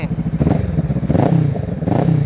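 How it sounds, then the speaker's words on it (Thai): A 2018 Honda Rebel 500 motorcycle exhaust revs up in three surges, the engine note rising and falling with a rough, throaty crackle, close and loud. "เดี๋ยวมาฟังเสียงท่อกัน"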